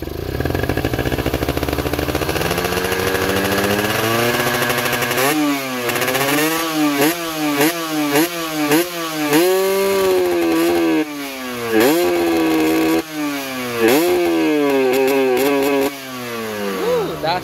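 Loud two-stroke Kawasaki Ninja motorcycle engine fitted with an aftermarket reed valve set, idling, then revved repeatedly in sharp rising bursts, close to the microphone.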